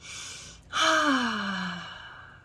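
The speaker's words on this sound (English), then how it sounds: "I'm breathing deeply to help to move the energies, because there was some stuck energies." During a reiki healing session, an audible deep breath, a soft exhale followed by a long sighing breath with a falling tone, comes close and alone.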